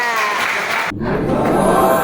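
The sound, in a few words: class applause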